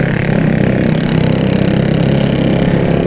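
A 50cc moped engine fitted with a modified exhaust and air filter runs loud and close, a steady buzzing drone with no pauses throughout.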